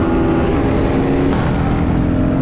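A Lamborghini's engine drones in a loud, steady, close rumble that holds level the whole time, with no voices.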